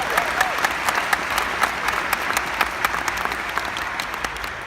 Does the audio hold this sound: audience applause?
yes